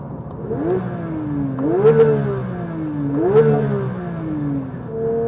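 A sports car engine in a manual Porsche GT3 revs up hard twice in quick succession toward 9,000 rpm, the pitch climbing sharply then falling back each time, loud and close.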